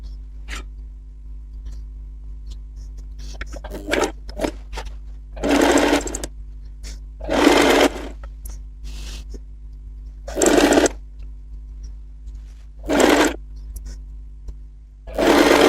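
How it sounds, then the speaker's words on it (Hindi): Bursts of a sewing machine stitching a lined blouse fabric, several short runs of rapid mechanical whirring separated by pauses, close and loud over a steady low hum with small handling clicks between runs. "इसी तरह से हम अस्तर वाले फैब्रिक की भी सिलाई कर लेंगे"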